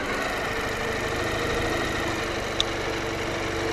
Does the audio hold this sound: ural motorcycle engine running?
yes